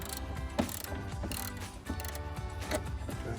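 Small nuts being turned loose by hand on a 1999-2004 Mustang tail light, a steady run of light ratcheting, mechanical clicks and metallic ticks close by, with no talking.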